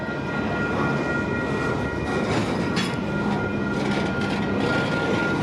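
Freight train number 112 rolls past close by, a continuous loud rumble of wheels and cars with steady rail noise and faint clatter, no talking.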